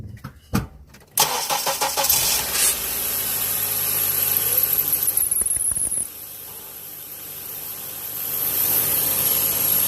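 A 2005 Honda Accord engine cranks and starts after a power steering pump replacement, with a few sharp clicks before it catches, then a steady close idle carrying a high whine that changes partway through.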